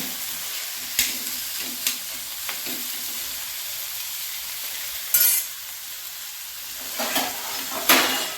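Tomatoes sautéing in a pan for paneer butter masala give a steady, close sizzle, broken by several sharp stirring scrapes and clatters of a spoon against the pan, with no voices.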